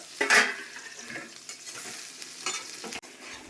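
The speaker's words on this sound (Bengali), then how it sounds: "চিকেনটাও ভালো মতো ভাজা হয়ে গেছে" Chicken and potatoes fry in a pan with a sour curd masala, giving a soft oily sizzle punctuated by irregular scraping stirs from a spatula, close by with no talk.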